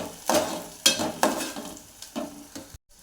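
Onion-tomato paste frying in oil for drumstick masala, stirred with a spatula in a pan; several scraping stirs and sizzling bursts, close and fairly loud, ending in a short silence.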